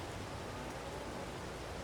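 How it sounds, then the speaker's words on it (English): Steady, dense rain shower in Farming Simulator 22, a continuous even hiss of falling rain filling the whole moment with no voices. "Right, how long is it going to rain for?"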